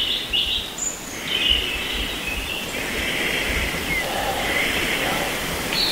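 Birds sing in quiet English woodland near Breamore, several thin chirps and whistled phrases coming from a moderate distance over a soft, steady background hiss.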